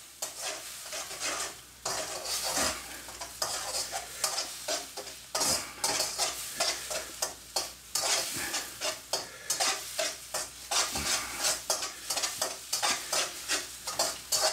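Eggs sizzle in hot oil while a utensil scrapes and stirs them around a pan in a steady rhythm of close, bright scraping strokes for egg fried rice.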